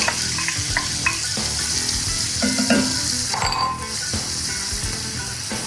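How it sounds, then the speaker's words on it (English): Bacon and onions sizzle steadily in a pan, a continuous close hiss with occasional light clinks of a utensil against the pan and no voices. "And my bacon is smelling good, looking good."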